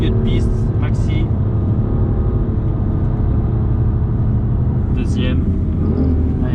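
BMW M2 CS engine accelerating hard on the Castellet race track during a trackday, a loud sustained in-car drone that holds steady throughout, with a driving coach speaking over it.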